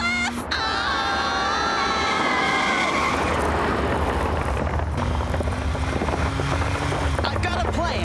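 Cartoon getaway car racing at speed with tires squealing in a long skid during a chase, loud and continuous, with shrill cartoon voices crying out over it.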